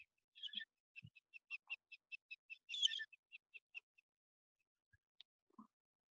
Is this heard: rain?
no